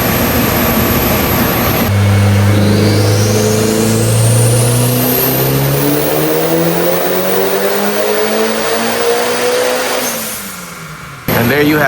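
A Mitsubishi Evo on a stock block with an AGT 64mm turbo revs on a dyno, its loud engine tone climbing steadily for several seconds through a full pull, then dropping off sharply.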